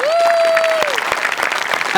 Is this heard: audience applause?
yes